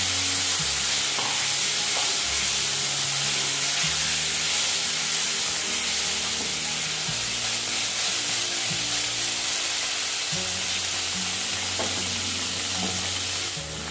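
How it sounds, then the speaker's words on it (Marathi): Paneer cubes roasting in a pan for cashew paneer masala, a steady loud sizzle throughout with occasional soft stirring scrapes, no talking. "आपण जे पनीरचे तुकडे घेतले आहेत तेही थोडेसे रोस्ट करून घ्यायचे"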